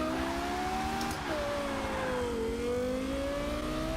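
Lexus LFA accelerating in Forza 6 on a racing track, a loud, steady engine whine that climbs in pitch, dips briefly at a gear change and then rises again, with no voices.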